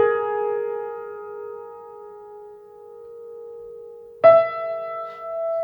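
A single piano note, unprocessed, rings out and slowly decays over several seconds, and then a second, higher note is struck cleanly and sustains, with no talking.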